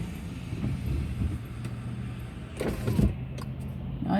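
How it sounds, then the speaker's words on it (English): A car window squeaks in its frame on a cold day, heard from inside the car as short creaks over a low steady cabin hum, with a louder squeal near the end. "My window's squeaking."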